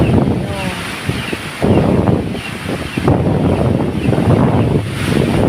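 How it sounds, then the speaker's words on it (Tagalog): Strong gusty wind from a typhoon buffets the microphone in heavy roaring surges, with rushing outdoor storm noise and heavy rain behind it and a voice faintly under it. "Lakas ng hangin, lakas ng ulan."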